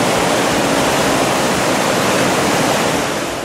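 The swollen Rímac river rushes with a loud, dense, unbroken roar of turbulent water, close and constant with no voices.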